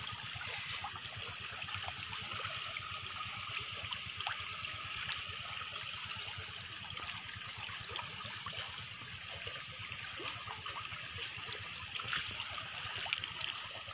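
A river stream flows steadily nearby with a soft continuous rush and trickle, fairly faint, heard alone with no talking.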